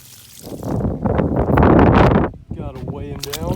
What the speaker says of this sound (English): I'm going to go fill this up with water